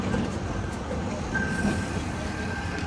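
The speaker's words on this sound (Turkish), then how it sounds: "tramvay gidiyor." A tram in Bursa, Turkey rumbles past with a steady low roar and a faint high wheel squeal, continuous and moderately close, with some distant voices underneath.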